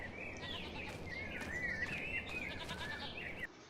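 Sheep and goats in a barn in the Farming Simulator 25 video game bleat and call over and over, fairly close and loud, with layered overlapping cries over a steady broadband background.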